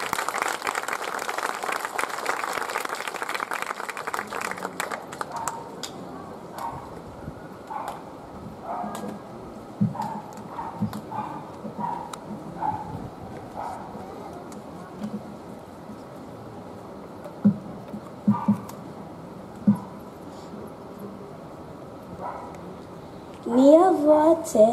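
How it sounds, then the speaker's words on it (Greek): An audience claps for a children's play at the closing celebration of the 4th Tsakonian Archive summer school, in a dense burst lasting several seconds before fading into a quieter room with scattered sounds and talk. "Ας τους χειροκροτήσουμε."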